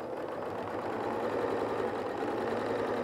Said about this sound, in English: I'm just going to continue sewing exactly that same way, one piece after the other.